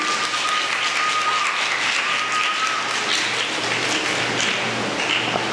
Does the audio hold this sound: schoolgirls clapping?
yes